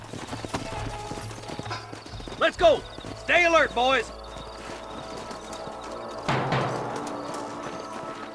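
Horse hooves clip-clop beneath a voice giving short spoken lines, with a brief burst of bright, rising harness or whinny-like tones midway, in the video game Red Dead Redemption.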